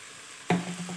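Chicken mince filling for stuffed buns, seasoned with mustard paste and oregano, gets a sudden clatter of stirring in a pan, followed by a low steady sizzle that carries on for the rest of the moment.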